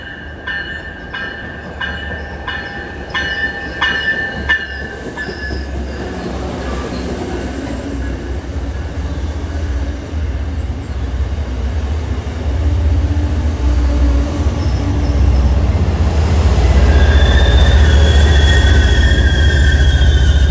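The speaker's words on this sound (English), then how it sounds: "139 arriving as train 1026 from Greenbush to South Station." An MBTA commuter train from Greenbush to South Station pulls into a Boston-area station with a rising low rumble, clattering wheels and squealing brakes that grow louder as it slows and stops.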